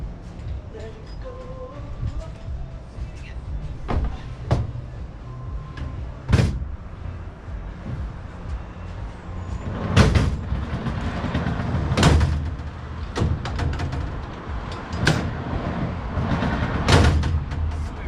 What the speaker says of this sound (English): is to slide your drawers in to make sure they run nice.